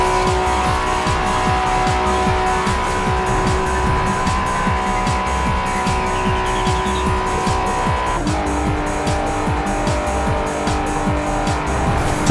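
Acura NSX engine roaring loudly and steadily in a tunnel, sustained drone with a gear change near the end, continuous and close with no speech.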